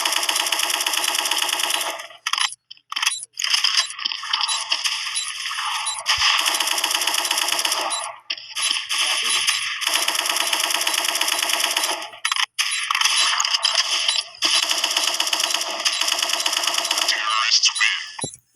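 Rapid automatic gunfire in a video game, dense bursts of loud rattling shots repeating in long stretches separated by brief pauses.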